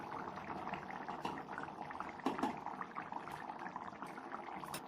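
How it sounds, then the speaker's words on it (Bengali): Ghee is poured into a pot of fully boiled potatoes with garam masala, a soft liquid trickle over steady low bubbling and sizzle, with a brief louder splash midway. "গরম মশলাটা দেওয়ার পরে এবার আমি দিয়ে দেবো ঘি।"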